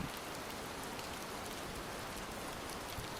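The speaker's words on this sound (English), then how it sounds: "The rain is like as quiet as it's ever been, but it could be your FX sound" A rain sound effect plays during an art livestream, a dense and steady hiss of falling rain that continues without a break, with no voices over it.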